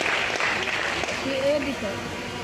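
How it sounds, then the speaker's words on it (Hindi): Audience applause at a live event in Patna, continuous clapping under an announcer's voice, moderately loud and steady throughout. "तो एक बार जोरदार तालियां हो जाए इनके लिए।"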